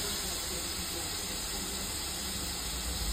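Shellfish sautéing in a pan with green chillies and coriander, a steady, even sizzle and hiss that runs unbroken throughout with no voices.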